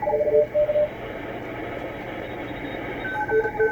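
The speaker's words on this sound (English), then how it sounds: "That's all the different Morse code signals spread across the bandwidth" Morse code signals on the 20 meter amateur radio band during a CW contest weekend: several faint, overlapping tone beeps in dotted patterns over steady receiver hiss, with no speech.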